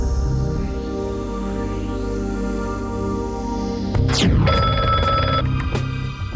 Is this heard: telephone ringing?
yes